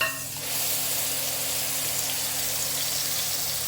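Ground masala hitting hot coconut oil, bursting into a loud, steady sizzle after a brief quiet start and holding close and constant to the end.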